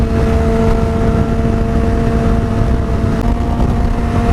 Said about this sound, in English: The exhaust note is not quite as gargly.